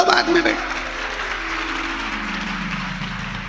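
Audience clapping at a live Shiv Mahapuran katha religious discourse, a dense wash of clapping from a large gathering that starts loud and fades slightly, with a brief voice near the start.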